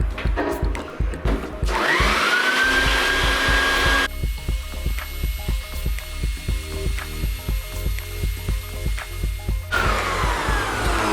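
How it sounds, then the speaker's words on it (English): A vacuum cleaner runs loudly and steadily while cleaning the bottom tray of a RocketBox 2.0 pre-roll machine, its whining motor shifting pitch as the nozzle moves, with rattling and clicking from debris being sucked up. "The bottom tray very easily can be utilized again with the vacuum cleaner."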